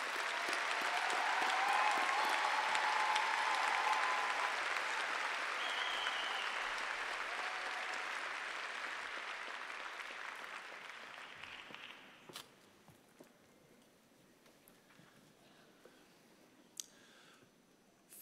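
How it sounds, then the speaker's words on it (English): Graduation audience applauding the graduating class in a large hall, a loud sustained ovation that gradually fades away, leaving sparse scattered claps and clicks near the end. "Please join me in a round of applause for the graduating class."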